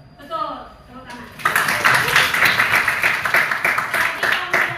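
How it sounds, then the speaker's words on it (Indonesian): A classroom of pupils claps together in rapid, steady rhythm after brief speech, loud and close, with voices mixed in. "Betul, tepuk tangan."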